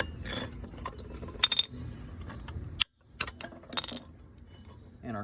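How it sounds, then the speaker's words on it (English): Metal brake pads come out of the caliper on a 2011 Nissan Altima in a scatter of close, sharp clinks and rattles, with short bursts, a brief silent gap and quiet moments between. "Now we can pull our pads out."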